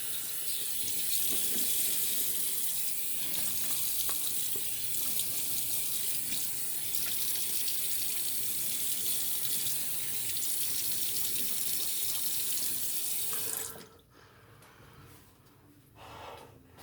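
Cold water runs steadily from a tap for about fourteen seconds while someone wets their face after a shave, then stops, leaving faint drips and splashes.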